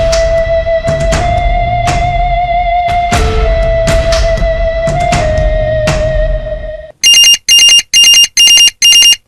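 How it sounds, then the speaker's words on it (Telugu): A telephone bell rings loud and continuous for several seconds, then gives five sharp, evenly spaced rings alone. "ఫోన్ వస్తోంది."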